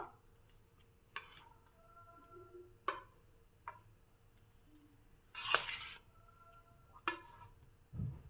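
Dish being mixed again in a pot while cooking a Hoysala Brahmin recipe: scattered clinks and scrapes of a spoon against the pot, spaced irregularly, fairly quiet with one louder scrape midway.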